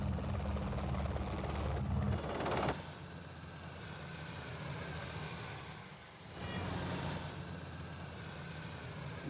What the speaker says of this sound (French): hissés par un treuil à bord de notre hélicoptère